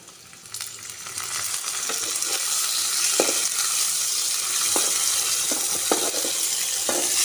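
Chopped onion and tomato frying in a pan, a steady close sizzle with occasional clinks and scrapes of stirring, no talking.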